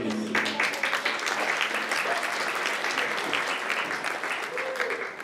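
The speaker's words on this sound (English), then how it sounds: "Yes, round of applause for everyone, please." An audience at an evening design challenge awards showcase gives a full round of applause, clapping densely and evenly before tapering slightly at the end.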